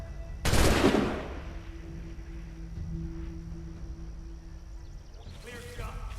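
A burst of video game gunfire, a loud close volley of shots at the start that rings out and fades, followed by quiet ambience with a faint low hum and another brief rattle near the end.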